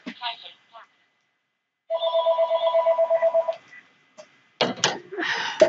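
A telephone rings with a rapid, loud electronic trill in one sustained burst, close by, with a person talking before and after it.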